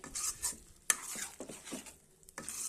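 A spoon stirring masala powder into a tomato and broad bean curry in a pan, irregular scraping strokes and soft clinks over a faint sizzle, close and fairly quiet.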